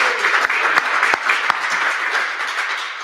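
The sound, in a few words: audience applause for Randy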